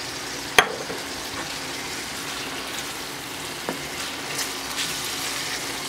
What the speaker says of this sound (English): I'm also going to stir in about 1/2 cup of pepperoni that I chopped up a little bit.